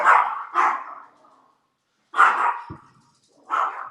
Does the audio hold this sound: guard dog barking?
yes